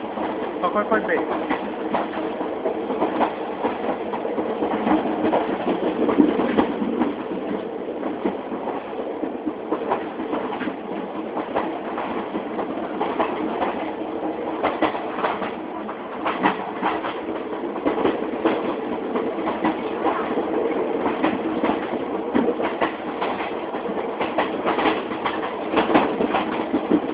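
An excursion train slowly brakes, a continuous heavy rumble with rattling carriages and scattered clacks and squeals lasting throughout, while people talk over the noise.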